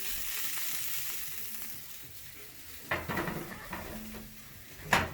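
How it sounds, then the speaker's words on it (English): Steady, crackling sizzle of broccoli roasting in a hot pan, with a couple of sharp metallic clinks and scrapes of a utensil. "As you can hear the sizzle, that's how you know it's nice and roasted."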